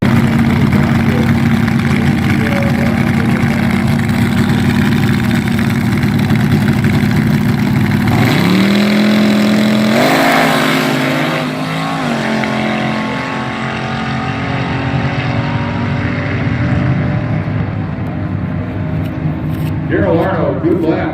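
A front-engine dragster powered by a small block Chevrolet roars loudly at a drag strip, its steady engine drone shifting in pitch as it races past. An announcer talks over the noise throughout.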